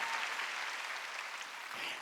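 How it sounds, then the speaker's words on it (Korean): Church congregation clapping together during a Sunday worship service, a dense, steady wash of applause that holds evenly from start to end, with no voices over it. "깨달은 사람 박수 치라고"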